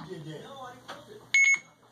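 Package scanner device giving a confirmation beep after a delivery barcode is sent, a short, loud, high electronic tone of about a quarter second, heard right after someone speaks.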